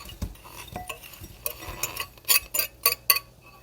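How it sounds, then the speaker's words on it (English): A whisk clinks and scrapes against a bowl while brown sugar is stirred into melted butter, a run of light metallic taps that grow sharper and quicker toward the end, with no voice over it. "I'm going to whisk that until it's all melted."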